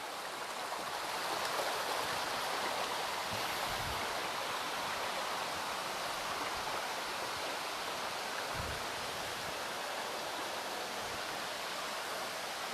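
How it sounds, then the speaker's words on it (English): Water rushes and burbles steadily in a nearby stream, a continuous broadband wash with no talking, occasional low thumps underneath. "I kind of don't want to talk just so you can hear the water flowing by."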